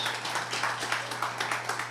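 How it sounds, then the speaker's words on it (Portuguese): Audience clapping for Natan at a leadership talk, a dense, rhythmic patter of many hands in a hall, steady and moderately loud over a low electrical hum. "Salve de palmas para Natan"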